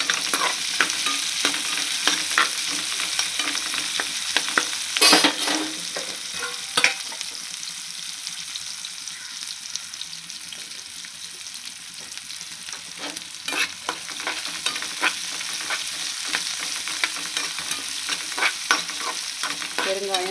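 Onions sautéing golden in a pan with asafoetida and cumin for drumstick sambar, a steady close sizzle with scattered stirring scrapes and a few louder clatters throughout, no voices.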